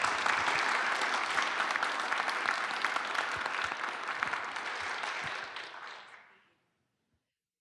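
At a 1 Million Cups Kansas City community event, the audience applauds the panelists with a full, dense burst of clapping that holds steady for about six seconds and then quickly fades into silence.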